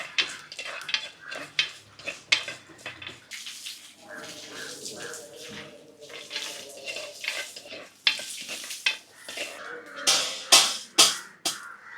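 Home kitchen cooking with clinks and scrapes of pots, stirring and a soft sizzle of spices roasting in oil, in uneven bursts with sharper metallic knocks toward the end, near and moderately loud.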